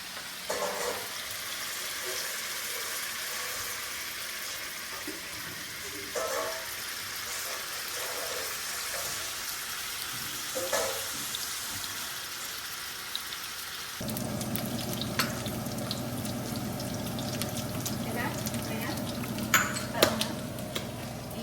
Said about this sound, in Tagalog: antayin lang natin mag-brown ang ating pork